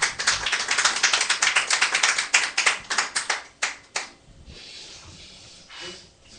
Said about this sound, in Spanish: le damos un fuerte aplauso de despedida